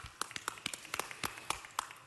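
A roomful of people at a city council meeting clap in welcome for visiting council members and a mayor, a fairly faint, sparse patter of individual claps rather than a dense roar.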